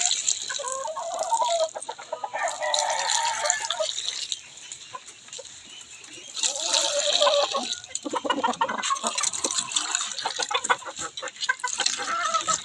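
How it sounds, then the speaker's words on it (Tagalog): A flock of gamecock chickens clucks continuously nearby, with louder bursts of squawking and a rooster's crow rising partway through. "Tapos na natin pinainom ang ating mga panabong na manok"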